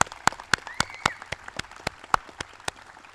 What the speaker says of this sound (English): Let's give these young musicians a round of applause.